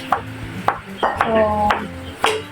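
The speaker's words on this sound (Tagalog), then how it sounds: "hiwain natin yung sibuyas na paligid" Onion being sliced with an improvised knife outdoors: a handful of sharp, separate chopping knocks spaced about half a second apart, close and clear, with light background sounds between strokes.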